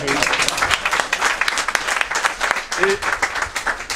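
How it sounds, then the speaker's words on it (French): Audience applause at a talk on hip-hop and African history, clapping from a crowd with voices and cheers mixed in, continuous across the moment. "applaudissements pour la sœur Eben"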